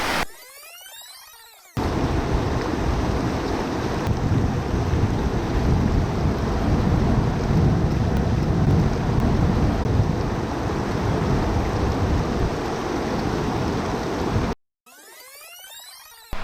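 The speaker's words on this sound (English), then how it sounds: "we're gonna go ahead and fill up my water bottle with some fresh Alaskan mountain water" Fresh Alaskan mountain stream water rushes loudly into a water bottle, a steady, dense gush lasting most of the stretch, with brief outdoor quiet before and after.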